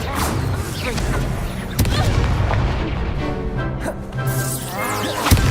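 A fire spell cast in a Hogwarts video game, heavy booming blasts and crackling bursts layered over dense game sound, with a player's voice talking underneath.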